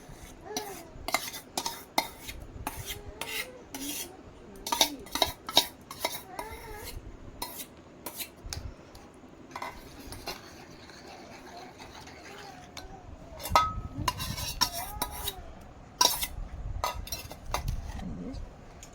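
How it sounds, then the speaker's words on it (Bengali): Chopped apple, grape and banana are mixed into a sago fruit salad with condensed milk, giving irregular scraping and clinking of a spoon against a bowl, close and moderately loud, with quiet talk at times. "এই যে একে একে এবার আমি সব ফ্রুটস এর সঙ্গে মিশিয়ে দেখতে থাকুন বন্ধুরা।"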